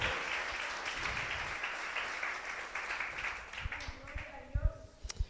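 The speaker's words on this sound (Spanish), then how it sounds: "Démosle ese aplauso al Señor y démosle gracias." Congregation at a Sunday church service applauding, a sustained broadband patter that stays steady and then thins into a few louder scattered claps near the end, with voices mixed in.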